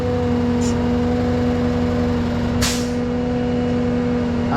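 A tow truck with a rollback flatbed idles with a steady low engine hum. Two short sharp air-brake hisses sound close by, a brief one early and a louder burst a couple of seconds later.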